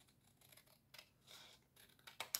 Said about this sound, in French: On va couper ça.